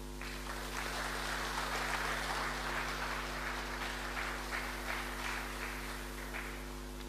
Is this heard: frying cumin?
no